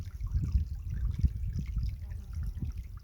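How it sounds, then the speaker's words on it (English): Water trickles and dribbles steadily from a buff cloth filter while drinking water is collected from an alpine river in the Jagungal Wilderness, with a soft, close, continuous patter and no talk. "Just collecting some drinking water, using the classic buff as a tool to remove any suspended debris in the water"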